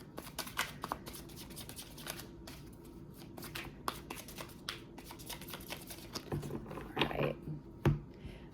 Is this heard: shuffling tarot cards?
yes